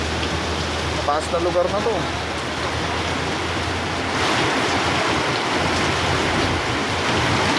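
Heavy rain pours steadily while returning home from work, a dense continuous wash of water noise with a person speaking briefly over it.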